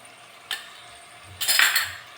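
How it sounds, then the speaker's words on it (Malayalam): A spoon stirs chicken 65 mixed with chilli sauce in a pan, giving two short scraping clinks and then a louder, longer scrape with a light sizzle. It is close and clear with no talking. "ഇതെല്ലാം കൂടി നമുക്കൊന്ന് മിക്സ് ചെയ്ത് കൊടുക്കാം"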